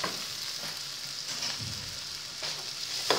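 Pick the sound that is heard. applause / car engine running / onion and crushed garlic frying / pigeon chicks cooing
onion and crushed garlic frying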